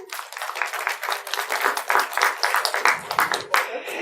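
An audience at an academic lecture on ancient research methodology claps together, a dense, even patter of hands with some voices mixed in.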